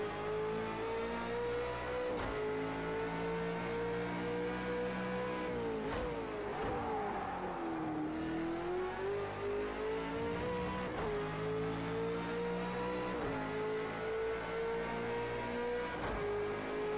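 Car engine in a racing sim game played on a Fanatec v2.5 wheel base, revving hard and steady through gear changes with a dip and recovery around the middle, loud and continuous with no talk.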